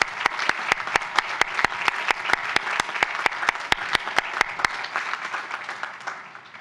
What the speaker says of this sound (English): Please applaud for them as well.